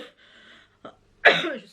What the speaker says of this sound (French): je vais tousser parce que j'ai du mal à parler